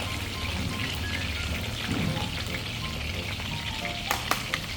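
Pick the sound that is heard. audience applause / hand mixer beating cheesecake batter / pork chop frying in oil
pork chop frying in oil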